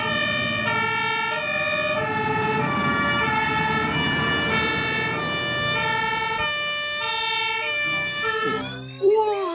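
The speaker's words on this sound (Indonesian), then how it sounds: "Widih, wow, mobil pemadam kebakaran water cannon." A toy fire truck's wailing electronic siren cycles steadily up and down, loud and close, with a brief clatter near the end.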